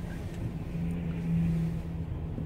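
A car cruising on Interstate 94 West in Minneapolis at evening rush hour gives a steady low engine and road hum from inside the cabin, even and continuous.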